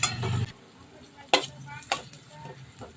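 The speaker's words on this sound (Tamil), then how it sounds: "இப்போ வெங்காயம் லைட்டாக வதங்கினா போதும். ஒரு 2 நிமிஷம் வதங்கட்டும்." Onions sautéing lightly in a pan for a Tamil-style coconut rice, with a brief sizzle and spoon stirring, a few sharp clinks of utensil against the pan over a low frying hiss.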